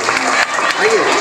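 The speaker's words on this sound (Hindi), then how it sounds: "जोरदार तालियां हुरैन जुबैर शेख के लिए।" Loud applause from an audience at a school stage show for a junior kindergarten child performer, dense clapping with a speaking voice over it.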